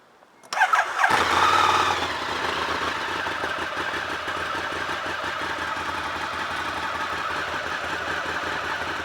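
A motorcycle engine cranks and fires up in first gear with the clutch held in, revving briefly before settling into a steady, rumbling idle that continues to the end.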